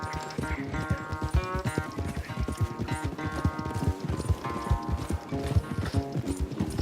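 Rhythmic hoofbeats of a horse at a fast gallop in the video game Red Dead Redemption 2, a rapid clip-clop over a musical background, steady and close.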